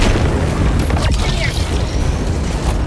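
A dense, roaring explosion in Helldivers 2 as the players' own ship is blown up, loud and close with heavy low rumble sustained across the whole moment.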